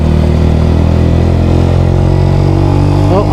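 A Yamaha YZF-R125 motorcycle engine hums loud and steady as the bike shifts smoothly through its gears, a continuous mid-pitched drone filling the whole stretch.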